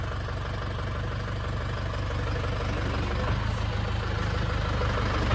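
A tractor engine idles close by, a loud steady low rumble with a fast even throb and no talk.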